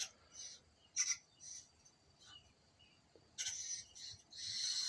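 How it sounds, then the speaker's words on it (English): A bird calls in repeated bright, excited bursts of chirps at close range, growing longer and denser toward the end, over a faint background with no talk. "The bird's going crazy, Rosie."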